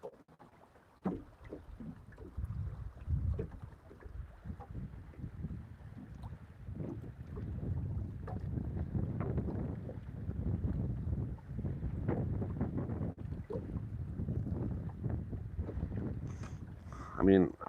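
Wind buffets a boat on Lake Morena during bass fishing, a continuous rumbling roar across the microphone with gusts rising and falling throughout, while a voice talks faintly beneath it.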